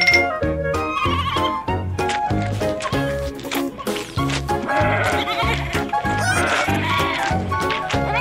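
Loud, repeated bleating cries of sheep on a farm overlap in quick succession, rhythmic and close, over a musical backing.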